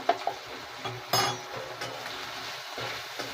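Turmeric being stirred into khichuri in a pan over lowered heat, with soft scraping and a faint sizzle, scattered light clinks of utensil against the pan.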